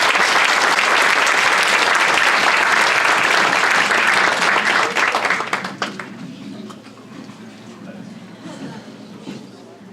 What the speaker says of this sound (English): Now we can give them a round of applause.